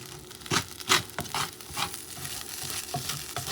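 Shrimp and basmati rice cook in a pan, a soft steady sizzle with scraping stirs and brief rustling bursts, close and fairly quiet, no talking.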